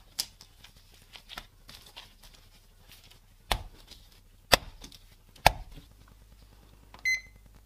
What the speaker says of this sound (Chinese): 咱继续开始摔打了。